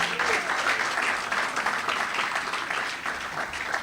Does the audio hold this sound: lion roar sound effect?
no